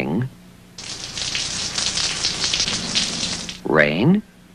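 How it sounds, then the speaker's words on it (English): Rain falls in a steady, dense hiss for about three seconds, loud and close, with brief bits of a voice just before and after. "Rain."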